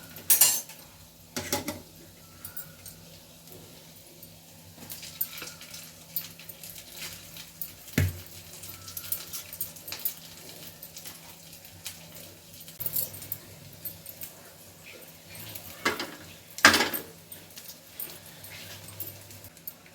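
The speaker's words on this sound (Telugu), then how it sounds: "ఎగ్ అయితే ఫ్రై అయిందండి ఇప్పుడైతే రైస్ వేసేస్తున్నా" A metal spatula clinks and scrapes in a pan as cooked rice goes into fried egg and gets stirred. The clatter comes in scattered, uneven knocks and jangles against a quiet kitchen background.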